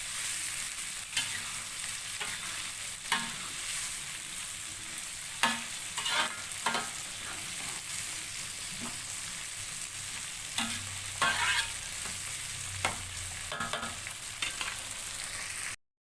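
Chili sambal for baby squid sambal frying in a pan while being stirred, with a steady, soft sizzle throughout and scattered sharp scrapes and clatters of the utensil against the pan.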